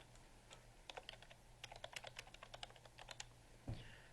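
Someone types form data on a computer keyboard, a quiet run of irregular key clicks in bursts with a faint steady hum underneath, ending in a slightly heavier keystroke.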